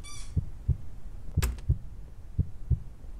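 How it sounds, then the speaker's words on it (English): A video game heartbeat effect thumps steadily in low double pulses, about six beats, with a brief bright sweep in the middle and a faint tone at the start. "Yeah, that heartbeat definitely getting louder."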